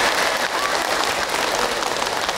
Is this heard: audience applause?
yes